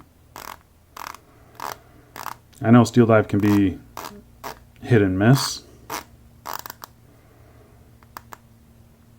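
A bronze Steeldive SD1965S dive watch bezel is turned in a series of sharp, evenly spaced clicks, with a person briefly speaking in the middle.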